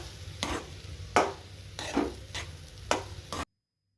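A spoon stirs motichoor laddu mixture with raisins in a pan over a gas flame, making five evenly spaced scraping strokes over a low hum before everything cuts to silence.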